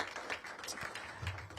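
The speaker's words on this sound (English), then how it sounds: "So give all of the teams involved in the planning a big round of applause." Audience at a Cisco showcase grand opening in DC giving a round of applause, a soft, steady patter of many hands clapping throughout, moderately distant.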